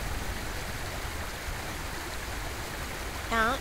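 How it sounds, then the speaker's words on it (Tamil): Steady rushing water of a fast-flowing river flows continuously, a broad noisy wash, with a brief tonal chirp near the end, in a cartoon. "ஆனா அந்த தண்ணி ரொம்ப வேகமா ஓடுது."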